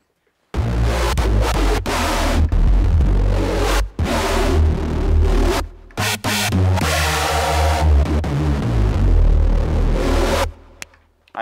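An FM8 synth patch with detuned unison voices plays loud, thick, buzzing sustained notes in choppy phrases separated by brief silences, close and full with heavy low end, with no speech over it.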